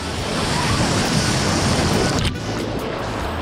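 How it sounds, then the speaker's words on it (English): Ocean surf at a beach in Cádiz, Spain, with waves breaking in a steady roaring wash, close and loud, buffeted by wind noise on the microphone. "Whoa, wow, check this wave out."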